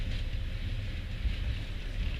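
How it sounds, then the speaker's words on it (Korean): Steady low rumble and hum of a small tram in motion in Sofia, Bulgaria, continuous rolling noise from inside the car with no voices. "제가 지금 타려고 하는 지금 전차가 막 들어왔습니다"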